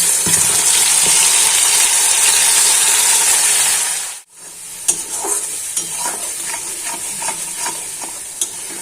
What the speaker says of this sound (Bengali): এবার আমি পেঁয়াজ আর রসুন পেস্ট করেছিলাম সেটা দিয়ে দিলাম